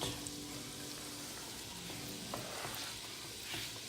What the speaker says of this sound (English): I'm going to saute it up for, I don't know, roughly 5 to 7 minutes